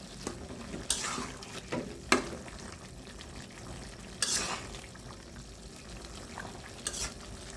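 Radish and small hilsa fish curry stirred in a pan with coriander leaves, several scraping strokes of a spoon against the pan over a soft sizzle, close and intermittent.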